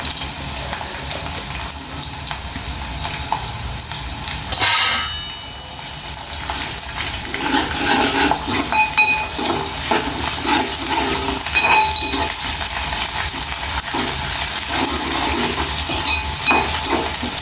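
Ginger paste fried and stirred in a pan for a fenugreek-leaf and moong dal fry, a continuous bright sizzle with a brief muffled dip partway through, then denser scraping and stirring strokes that grow busier and louder.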